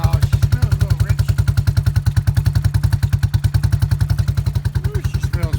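A small Yamaha engine on a Rhino utility vehicle idles after a choked start, running rich with a fast, even, loud thumping putter close by, holding a steady rhythm throughout.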